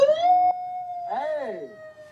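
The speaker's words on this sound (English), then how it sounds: "as long as you have a siren on there and it produces a sound." A wailing vehicle siren sounds close and loud, a steady held tone that then swoops up and down in a warbling sweep, with no talk over it.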